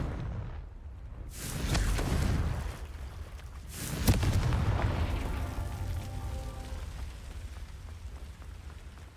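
Confringo spell blasts in Hogwarts Legacy, two sharp explosive bursts a couple of seconds apart, each trailing into a rumbling crackle that fades slowly, fairly close and moderately loud.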